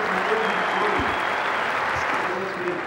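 Steady applause from the crowd at the Adelaide cricket ground, a sustained wash of clapping across the whole moment, loud and even, with a commentator talking over it.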